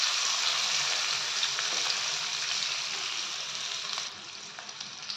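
Onions and green chilies frying in a pan for poha, a steady loud hiss of sizzling oil that eases slightly toward the end, with no voices.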